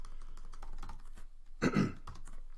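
Computer keyboard typing in quick, uneven bursts of close, soft key clicks, with a louder cluster in the middle and no talking.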